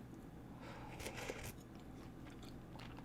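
Crisp biting and chewing on fried food served with tteokbokki, a few close crunches bunched in the middle over a low steady background hum.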